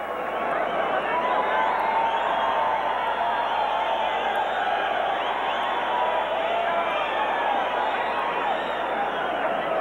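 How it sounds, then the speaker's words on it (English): Boxing crowd at the Pit in Albuquerque roaring between rounds of a pro bout: a dense, sustained wall of cheering, whooping and yelling that stays loud and steady throughout, with no single voice standing out. "Roar goes up from the crowd."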